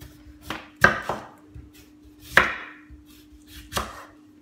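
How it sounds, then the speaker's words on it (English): A knife chops a washed potato into chips on a board, giving about five crisp, sharp strikes at irregular intervals with quiet pauses between them. "just in case you've never seen anyone chopping a potato before,"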